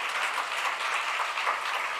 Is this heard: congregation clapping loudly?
yes